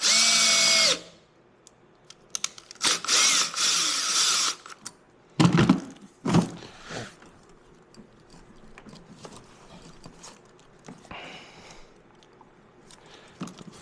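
Power tool tightening the intake clamps on a BMW M550 during a front mount intake install, heard as a few short, loud whirring bursts with pauses and quieter clicks and clatter between them.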